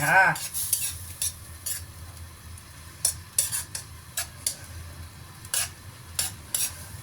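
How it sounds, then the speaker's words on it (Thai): Curry ingredients stir-fried in a pan for kaeng khi lek, a quiet sizzle punctuated by sharp, irregular metal scrapes and clinks of the utensil against the pan. "ผัดก่อนนะคะ ก็โอเคผัดให้หอม"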